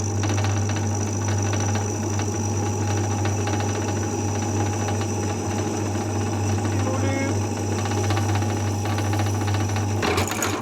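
Electric drill with an 8mm bit boring straight through the metal of a stuck Ford Maverick / Mazda Tribute car door, a steady grinding whir with a low hum held continuously and loudly close by for about ten seconds.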